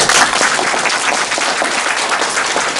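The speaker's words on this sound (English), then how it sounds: "I will invite you to join me to give Mr. Richardson a welcome applause." Audience applause at an evening talk welcoming a guest speaker: dense, steady clapping from a full room, loud and sustained throughout.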